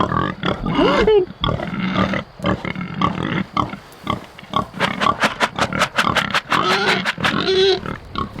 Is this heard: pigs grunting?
yes